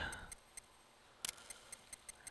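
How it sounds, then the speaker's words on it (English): Keystrokes of name entry in Metal Gear Solid 2: about a dozen short, crisp ticks in an uneven rhythm, with one louder double click midway, quiet and alone with no talk. "I am typing Hideo Kojima."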